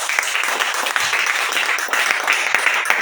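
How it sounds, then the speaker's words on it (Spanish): A church congregation applauds in praise, a dense, steady wash of many hands clapping at moderate volume with no clear pauses, a few sharper claps standing out. "Den un aplauso a Dios, hermano."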